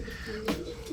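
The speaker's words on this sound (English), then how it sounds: "here we are up close in our racing pigeon loft" Racing pigeons coo inside a loft, a brief low throaty coo standing out near and clear over a soft background of other birds.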